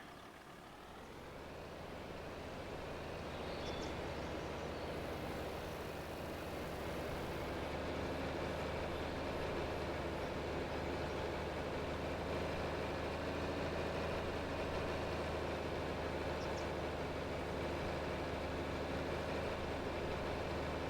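Small tractor engine in Farming Simulator 25 on a Montana farm field, a steady low drone building over the first seconds and then holding loud and continuous with no talk.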